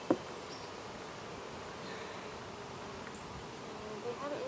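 Honey bees buzz steadily around an opened beehive during an inspection, a soft continuous drone of many insects close by with occasional louder passes.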